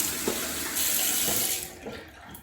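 A bathroom sink tap runs water steadily for washing a face, a close, hissing stream with a few small splashes and gurgles before it tapers off.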